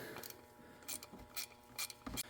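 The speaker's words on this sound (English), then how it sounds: "So I'm going to take off these bolts here." Bolts being removed from the sight glass on a semi trailer wheel hub, heard as several short metallic ratcheting clicks in spaced bursts, close and fairly quiet with no talk.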